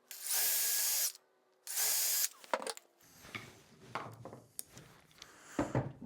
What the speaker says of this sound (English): What I would recommend doing here is drilling a hole, and popping two screws in there